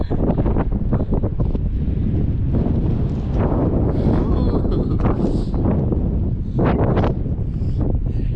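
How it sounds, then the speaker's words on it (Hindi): Strong wind roars and gusts across the microphone throughout, loud and constant, with a few brief rustling bursts and indistinct voices beneath. "यार इतनी तेज़ हवा चल रही है"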